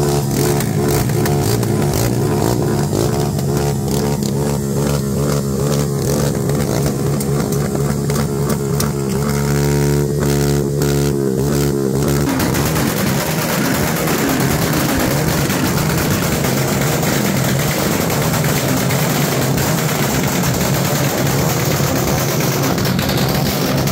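Loud engine of a 160 cc motorcycle running close by, its pitch rising and falling as it revs, then settling into a rough, steady roar.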